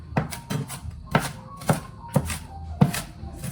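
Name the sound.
knife chopping onion on cutting board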